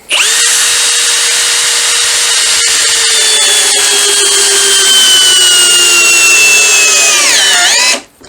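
Einhell TP-CD 18/120 cordless impact driver sinks a large 12 mm screw in one long, loud, continuous high whine with rattling overtones, pitch sagging slightly before it stops abruptly near the end.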